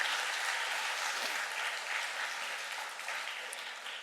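A church congregation applauds fathers during a Sunday service, steady moderately distant clapping filling the hall for several seconds at an even level.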